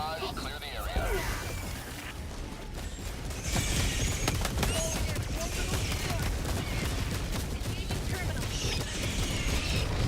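An orbital barrage strike pounds the ground in Helldivers 2 on the hardest difficulty, a dense, continuous rumble of rapid explosions and gunfire-like blasts that swells and holds loud, with voices talking over it.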